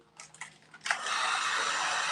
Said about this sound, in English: Now I'm gonna dry it. So if you don't have a heat gun, this is where you would use your hair dryer.